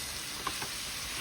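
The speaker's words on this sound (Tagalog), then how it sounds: "Maglagay na tayo ng konting patis. Igisa lang natin yan for a minute." Garlic and fish sauce sauté in a hot pan with a steady, hissing sizzle, punctuated by a couple of faint clinks.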